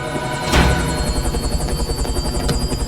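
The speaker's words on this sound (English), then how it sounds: "Get the heli out there." A helicopter in an action movie thumps with steady rapid rotor beats and a high whine, loud and close throughout, with one brief swell of noise early on.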